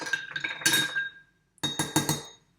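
Ice cubes clinking against glass as a cocktail is stirred, a series of bright close clinks in two bursts split by a short silence.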